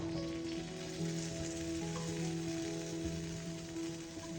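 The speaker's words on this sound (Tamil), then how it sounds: "நெய் வர சுத்தி வர விட்டுக்கோங்க" A jaggery dosa frying in ghee on a pan gives a soft, steady sizzle with fine crackling, quiet and continuous over a low background hum.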